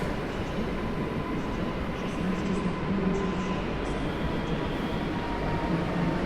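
An Elf electric multiple-unit train pulls away from a platform at Kraków Główny station, a steady low rumble and hum that stays constant, with faint voices in the background of the busy station.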